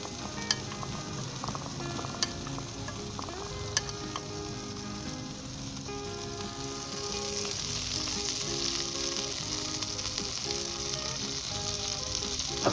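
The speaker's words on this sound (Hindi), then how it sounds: "अब 3 मिनट के लिए दोनों साइडों से आप इसे फ्राई कर लें" Shami kebabs fry in butter over low heat, a continuous soft sizzle and crackle with occasional light clicks of a utensil against the pan, steady and close, no voices.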